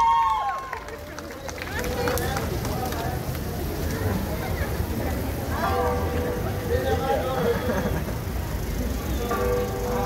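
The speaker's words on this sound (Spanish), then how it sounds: "Vamos a brindarle los aplausos a Estudio Coreográfico Ajedrez" Dense audience applause for the dance troupe Estudio Coreográfico Ajedrez at a choreography show in the Complejo Cultural del Carmen, a steady broadband clatter of many hands lasting the whole stretch, with some tonal sound and voices mixed in.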